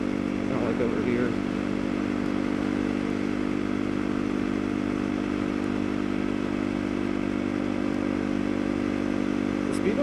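A motorcycle rides along a mountain road with a steady, droning engine hum that holds an even pitch for the whole stretch, close and constant, with wind rumble beneath it.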